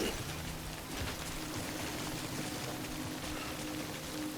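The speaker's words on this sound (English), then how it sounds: "I'm not going to repair while the timefall is still coming down with the rain" Steady, dense rainfall hisses evenly and continuously in the video game Death Stranding, where the rain is timefall. It forms a close, unbroken wash of drops with no pauses.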